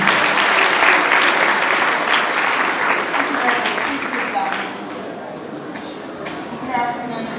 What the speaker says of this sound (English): Can you make the applause round for her?